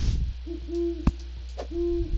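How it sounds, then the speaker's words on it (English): An owl in the video game Terraria gives two clear, drawn-out hoots a moment apart against a low steady hum, with a sharp click between them. "I'm gonna catch this owl."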